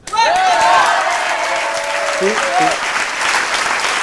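Studio audience applause on a 1991 French television comedy show, loud and sustained for about four seconds, with faint voices and a brief tonal sweep layered over the clapping.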